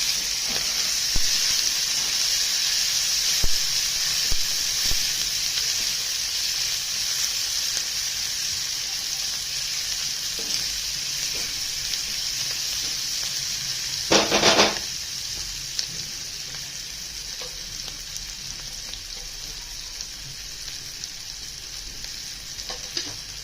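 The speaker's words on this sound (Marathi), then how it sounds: "त्यात आता याच्यामध्ये चिरलेला कांदा टाकून देतो तो पण चांगला परतून घ्यायचा" Chopped onion and green chillies frying in oil in a pan, a steady loud sizzle and hiss throughout, with a brief clatter of stirring partway through and occasional light scrapes.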